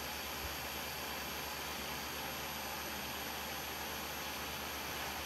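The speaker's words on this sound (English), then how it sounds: "Two main reasons I use the Flex 3-inch polisher here." Steady, uniform whirring drone of a Flex 3-inch polisher running on a car paint panel, a constant broadband hum throughout with no change in pitch or level.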